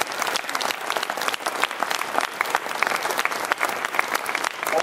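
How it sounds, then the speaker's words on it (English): Enthusiastic audience applause at the 2013 Podcast Awards during the New Media Expo in Las Vegas, with sharp individual claps standing out from a sustained, fairly close crowd. "Just everybody, if you would just give them a round of applause."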